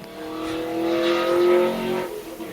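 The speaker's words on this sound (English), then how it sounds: "Where did I just hear an engine go by?" A car engine passes by outside a house, a steady rising and falling drone with harmonic tones swelling in the middle and fading, moderately loud with no talking.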